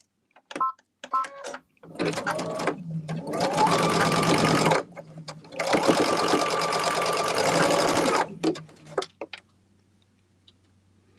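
A sewing machine stitches a scant quarter-inch seam on quilt sampler blocks, running in two steady bursts of a few seconds each with brief handling noises and clicks before, between and after.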